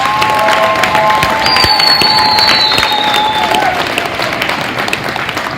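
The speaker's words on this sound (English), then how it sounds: "Give her a round of applause" Loud, sustained applause from a school assembly crowd honoring a teacher finalist, dense steady clapping with a few whistles and cheers rising above it.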